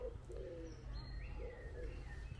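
A pigeon coos softly at Morecambe Bay, a few low murmuring calls set against steady outdoor rumble and faint higher bird chirps.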